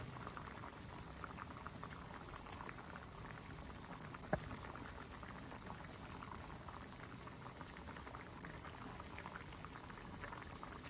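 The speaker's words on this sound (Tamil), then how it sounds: "குழம்பு நல்லா கொதிக்குது." Paruppu urundai kulambu, a lentil ball curry, boils in a pot, a faint, steady bubbling and simmering with one brief tap, and no one speaks.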